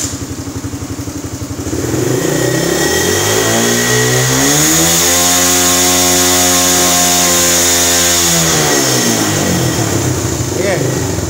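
A Raider motorcycle engine idles roughly, then revs hard and holds near 5,000 RPM with a rising, sustained whine before settling back. The sound is loud and close, with no talk over it.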